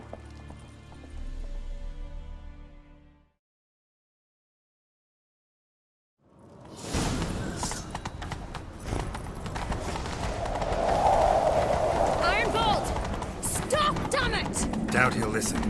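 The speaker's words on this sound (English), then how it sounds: "Grab a horse, we'll chase him down." Horses gallop with rhythmic hoof clip-clops in The Witcher 3: Wild Hunt during a chase, heard after a short silence under game music, effects and character voices.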